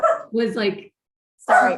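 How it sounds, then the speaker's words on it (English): A sassy female pet dog barks close by in short, sharp bursts, picked up through earbuds and mixed in with a person talking. "you can hear a dog barking through my earbuds"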